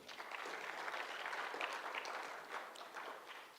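Audience at a Frappeverse Africa 2025 tech event applauds a speaker, a soft, distant wash of many hands clapping that swells and then tapers off without any talking.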